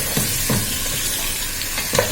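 Food sizzles and crackles in a hot pan as it fries to golden, with steady hissing and a few stirring scrapes at intervals.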